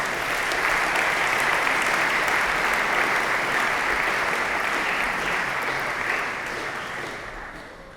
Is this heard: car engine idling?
no